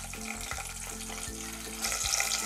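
Cumin, chillies and curry leaves crackle in hot oil for a Maharashtrian dal tempering, giving a steady, close sizzle with a brighter burst near the end.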